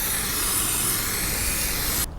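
Spray paint hisses steadily from an aerosol can onto a car body during bodywork, one continuous close spray that cuts off abruptly near the end.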